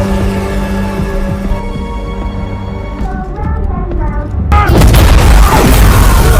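A film explosion erupts with a heavy booming blast and dense crackling debris after a stretch of tense musical score and layered sound effects, growing louder and harsher toward the end.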